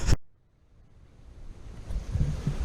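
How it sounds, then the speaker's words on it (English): Water flows through a swamp in a soft, continuous rush that builds gradually from near silence after a brief opening knock, with wind noise on the microphone and no voices. "the water is flowing as you can see"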